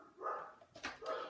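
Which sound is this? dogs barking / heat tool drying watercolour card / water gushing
dogs barking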